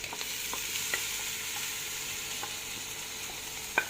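Freekeh grains stir-frying in a pan, a steady soft sizzle with a few light scrapes and clicks of stirring, close and continuous without any talking.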